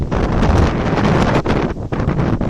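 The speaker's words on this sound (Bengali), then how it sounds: "সেই বাতাসের সাথে যুদ্ধ করে পারছি না মারাত্মক বাতাস" Strong, steady sea wind on the coast at Teknaf buffets the microphone with a loud, continuous roar, gusting slightly throughout with no voices.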